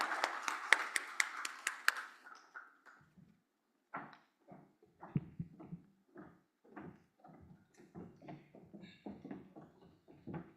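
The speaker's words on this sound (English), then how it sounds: "If you could please give her a warm applause," Audience at a regional forum on sustainable development claps for a minister, a short burst of sharp, distinct hand claps that fades after about two seconds into scattered taps and shuffling sounds in a quiet hall.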